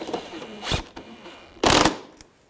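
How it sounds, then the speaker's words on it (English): Screws being driven up into the bottom of a 2013-2016 Dodge Dart bumper, heard as two separate short bursts of a power driver or tool whirring, the second louder and longer, set apart by brief pauses. "take the two screws on the bottom. Get those started and tighten those down"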